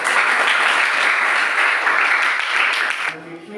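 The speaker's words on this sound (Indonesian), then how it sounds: "Oke, berikan aplaus." Classroom applause at a junior high school after a student group presentation, dense clapping from many hands that runs steadily for about three seconds, then quickly dies away.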